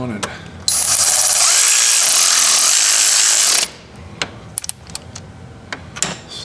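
A power tool snugs down a nylon lock nut on a spring being fitted to a 2018 Polaris Sportsman 570 EPI ATV. It gives one loud, close whirring burst of about three seconds, followed by a few light clicks and knocks.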